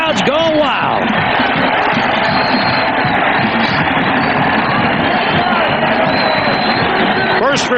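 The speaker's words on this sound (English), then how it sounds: "The crowd is standing at 1. The crowd's going wild." A stadium crowd roars and cheers after a Baltimore Ravens 95-yard kickoff return touchdown against the Minnesota Vikings in 1998, a loud sustained din with broadcast commentary running over it.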